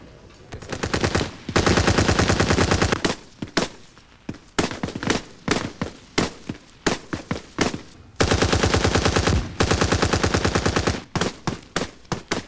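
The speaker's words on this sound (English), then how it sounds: "we fire live ammo at moving targets while smoke bombs are thrown to simulate tear gas" Live automatic and rifle fire on a U.S. Army infantry training range at Fort Benning, Georgia: long sustained bursts alternating with rapid single shots, loud and continuous, without speech.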